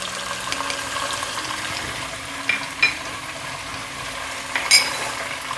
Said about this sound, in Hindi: और हम इसमें लहसुन अदरक का पेस्ट भी डाल देंगे।